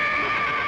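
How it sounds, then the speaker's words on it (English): A horse neighs in one short, loud, sustained whinny, heard close and alone in a classic comedy scene. "Well, I thought I heard a horse."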